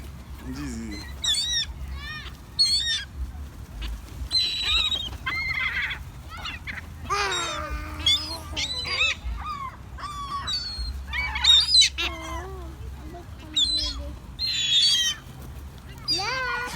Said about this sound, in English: Okay, we're giving the birds some bread.